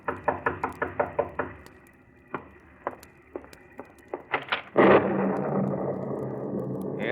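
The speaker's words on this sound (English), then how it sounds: "you're startled by a knock on the door" Knocking on a wooden door in a 1940s radio drama: a quick series of sharp raps, then a few scattered knocks and a louder thud as the door opens into a sustained roomy rumble, with no talking.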